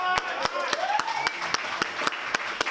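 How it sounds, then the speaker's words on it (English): Scattered, evenly spaced hand claps from an audience at a Libertarian Party event, sharp and fairly close, with a voice or tonal murmur running faintly underneath rather than a full wave of applause. "Let's give him a round of applause."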